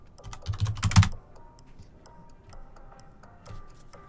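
Computer keyboard typing out a Discord message, with a quick cluster of loud keystrokes early on, then sparse, softer taps and clicks trailing off with pauses.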